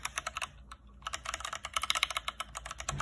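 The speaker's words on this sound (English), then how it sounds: "here's the keyboard itself. It's pretty nice. Just take a listen to it." Someone types on a customized Anne Pro 2 mechanical keyboard fitted with grippy HyperX keycaps, producing quick, crisp key clacks in uneven bursts with a brief pause, close up and fairly quiet.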